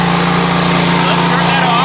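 A home-built generator driven by a lawn mower engine runs at a loud, steady drone with a constant low hum, heard close up with no break across the short stretch.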